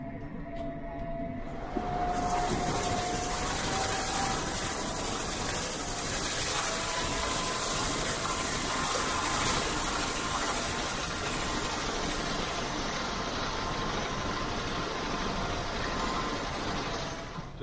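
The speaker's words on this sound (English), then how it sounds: "This tractor is a lot rougher than the new one, the 6R215." A tractor drives up a rough, bumpy farm track toward the yard, its engine a steady loud rumble with rattling and clatter from the uneven ground, continuous and close with no talk.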